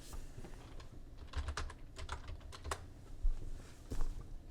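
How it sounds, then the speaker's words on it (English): Close typing on a computer keyboard, irregular clusters of soft key clicks with a few heavier presses, over a low steady room hum. "So I typed it in, push enter."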